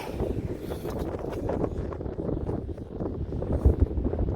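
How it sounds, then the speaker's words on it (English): Strong wind buffets the microphone on an open fishing shore, a steady low roar with gusts rising and falling throughout, loudest near the end. "That wind's a nightmare, isn't it?"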